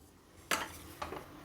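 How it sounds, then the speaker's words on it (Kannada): Powdered lentil mix added to hot tempering in a pan brings a quiet metallic clank of a spoon on the pan, followed by a couple of softer taps and a low background hiss. "ಈಗ ನಾವು ಪುಡಿ ಮಾಡಿಟ್ಕೊಂಡಿರೋ ಬೇಳೆಗಳನ್ನು ಇದರಲ್ಲಿ ಸೇರಿಸೋಣ."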